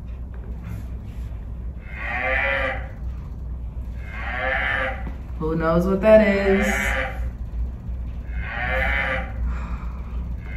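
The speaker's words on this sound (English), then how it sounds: "A cow makes that sound. A cow mooing." A cow moos in a recorded farm-animal sound played for preschool children. Four long, low calls come at fairly even intervals at moderate volume, and a voice briefly asks a question in the middle.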